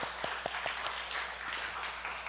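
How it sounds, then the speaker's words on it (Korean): A Korean church congregation at a Sunday service gives a brief round of applause to welcome a new member, with faint scattered claps at moderate distance. "우리 박수로 환영하겠습니다"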